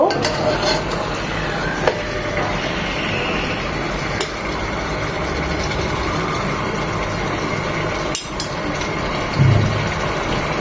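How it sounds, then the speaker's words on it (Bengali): A whole chicken frying in its own released juices over a gas stove gives a loud, steady, unbroken sizzle, with a couple of faint clatters as it is turned. "সেটা দিয়েই চিকেনটাকে ফ্রাই করতে পারবো"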